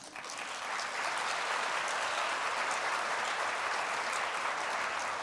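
An audience at a school district MLK celebration applauds the student art gallery with a thick, even wash of clapping that swells in quickly and holds steady, moderately loud, throughout.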